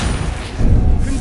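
A Confringo blasting curse explodes in Hogwarts Legacy on PS4, a short heavy thud and boom with a low rumbling burst that swells midway and fades quickly.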